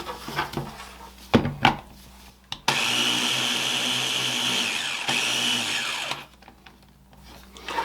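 A kitchen appliance whirs briefly to mix salt and sugar for an apple raisin pie. A few clicks and knocks come first, then a steady loud motor runs for about three and a half seconds and spins down.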